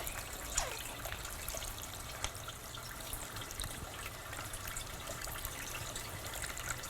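Small DIY water fountain kit trickling water, a faint, steady splashing and dribbling with soft irregular drips, close by and alone.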